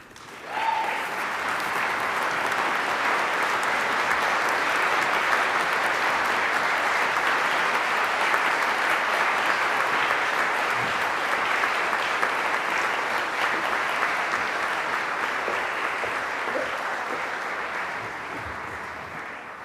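Standing graduates at a May graduation ceremony applaud their supporters and guests, a dense sustained roar of clapping from a large room that swells at once and continues for nearly twenty seconds before easing slightly.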